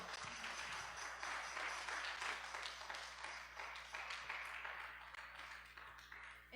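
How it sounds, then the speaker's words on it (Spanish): Church congregation claps along during a worship service, a rhythmic wash of many hands keeping a steady beat throughout, moderately loud and without clear speech on top. "Dale palmas al Señor."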